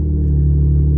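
Deep, steady rumble from a 2015 Chrysler 200S 3.6 V6 running a straight-pipe exhaust with resonator and muffler deleted plus a K&N cold air intake, droning loud and close at a constant low pitch with no speech.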